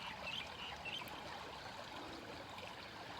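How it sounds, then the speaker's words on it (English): A calm river running through a rural property, a soft, steady trickling flow heard alone at low level. "This is when you enjoy the river in your property."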